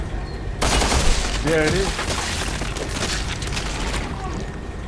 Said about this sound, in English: you gotta keep shooting